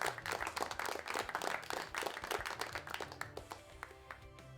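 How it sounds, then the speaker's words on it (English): A burst of applause, brisk clapping from a small group that gradually thins and fades out. "Here, have some applause."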